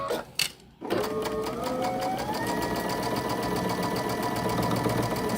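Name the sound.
sewing machine sewing a quilt block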